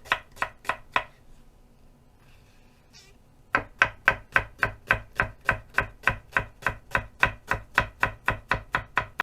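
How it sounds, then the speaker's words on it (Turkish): A knife chops a dry onion finely on a cutting board, a few quick strokes, a short pause, then a long even run of sharp, close chops. "bir adet kuru soğanımızı her zaman olduğu gibi ince yemeklik doğrayalım"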